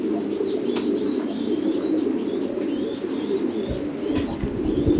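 Thai Titan pigeons in a pigeon farm coo continuously, several birds overlapping in low, loud, steady murmuring close by, with occasional chirps and a faint flutter near the end.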